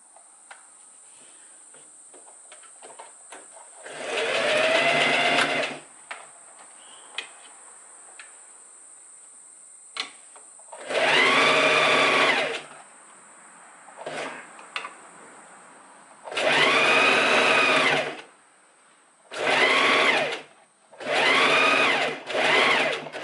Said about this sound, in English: So we're just gonna fold it inwards, oops, and just gonna sew along here so it's all looking like this.